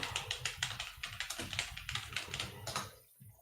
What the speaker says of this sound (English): We can hear you typing on your keyboard.